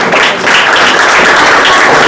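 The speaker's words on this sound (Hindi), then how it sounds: "चलो बहुत अच्छा, ताली बजाओ इसके लिए" A classroom of tenth-grade students clapping for a classmate, steady dense applause from many hands filling the room and sustained for the full stretch without pause.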